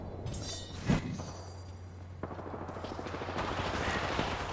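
Gunfire in the Apex Legends game on the Olympus map, with bursts of shots and a sharp blast near the start over a steady hum and game ambience, continuing as rapid crackling shots throughout.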